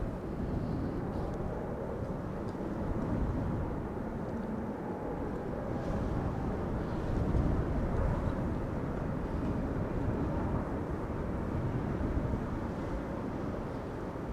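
An Air France Airbus A318 arrives at a windy Amsterdam Schiphol, a steady low jet roar blended with gusty wind noise, fairly constant with a slight swell midway.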